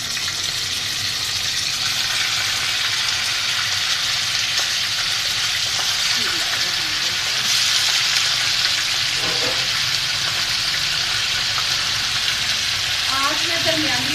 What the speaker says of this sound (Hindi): ऑयल गरम हो जाए तो फिर इसमें मैं चिकन डाल के फ्राई करूँगी।